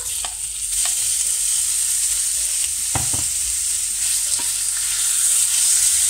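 Tomatoes cooking with frying onions in a pan for an onion tart: a loud, close, continuous sizzle with a few clacks of stirring, and no talking.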